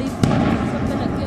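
LPG gas cylinders blasting one after another inside a burning truck on a highway through forest, heard as a sharp nearby burst over a loud, continuous roar of fire and crackle, with voices mixed into the din.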